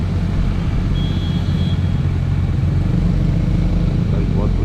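Kawasaki Ninja 1000 inline-four motorcycle riding over broken, rain-damaged mountain roads, a steady loud engine drone with rumbling wind noise throughout.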